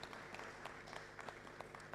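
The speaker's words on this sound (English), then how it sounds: "So a round of applause for our panelists who have spoken so far." Applause from a conference audience for panelists at a performing arts gathering, faint and fairly thin, a short burst of scattered clapping over a low room hum.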